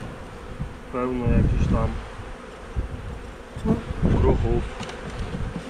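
Honeybees buzz at a wire-mesh transport box with no floor, a close, steady hum under two bursts of someone speaking.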